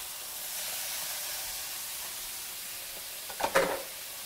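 Regular pork loin chops sear in a pan with a steady, faint hissing sizzle that briefly bursts louder and crackles near the end, close up with no talking.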